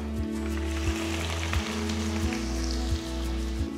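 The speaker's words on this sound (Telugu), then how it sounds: "సో ఆవాలు చిటపటలాడుతుంది" Mustard seeds crackle and splutter steadily in hot oil in a pan while cooking Nellore fish curry, a dense close sizzle with frequent tiny pops and a low steady hum beneath.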